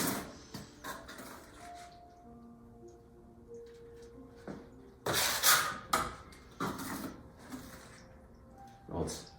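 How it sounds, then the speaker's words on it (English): A trowel spreads creamy thinset mortar onto an uncoupling membrane panel, giving a few short, close scraping strokes amid quieter handling noises and a voice talking. "So I'm going to apply some of the mortar to the panel here"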